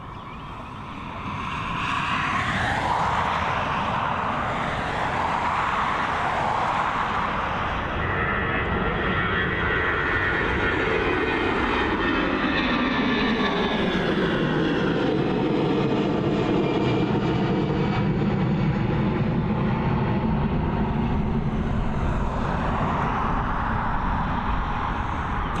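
An Aer Lingus airliner in the 2019 livery at Dublin Airport, its jet engines a loud, continuous roar that swells and sweeps past with no voices.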